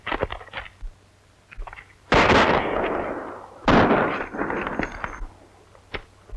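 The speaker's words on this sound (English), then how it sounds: "What fool fired those shots?" Two loud, close gunshots ring out with long echoing tails in a 1937 western film, spaced about a second and a half apart, with fainter scattered pops and thuds before and after.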